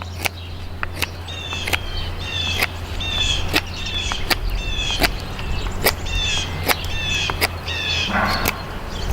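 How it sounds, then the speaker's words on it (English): Birds call outdoors in a series of sharp, repeated chirps and whistles over a low steady hum, with regular clicking or tapping sounds alongside them. "Those birds want to be in my video."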